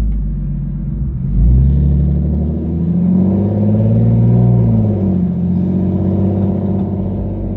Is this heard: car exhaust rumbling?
yes